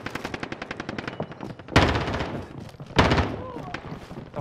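Automatic gunfire in the Call of Duty Warzone video game: rapid rhythmic bursts give way to two loud, close heavy volleys, with some quieter background game noise in between.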